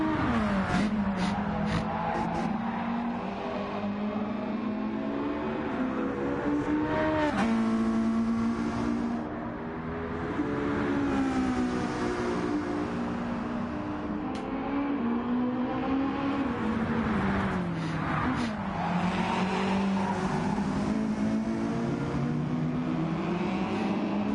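Race cars lap Fuji International Speedway in Gran Turismo 7 during a championship race, engines wailing steadily at high revs with repeated pitch drops and rises as they shift and brake, sustained for over twenty seconds.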